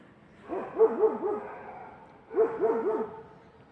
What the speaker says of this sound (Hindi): कुत्ता भी तो भौंक रहा है बार बार